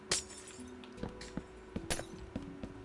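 Glass blocks shattering in the Minecraft video game, a sharp break at the start and another about two seconds in, with softer clinks and thunks between them and no talk.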